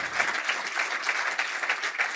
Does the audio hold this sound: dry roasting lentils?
no